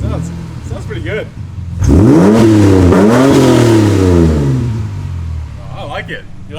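A Ford AU Falcon fitted with Pacemaker extractors revs hard from a low idle, the engine note climbing and falling in a couple of loud sweeping blips before settling back, with voices murmuring around it.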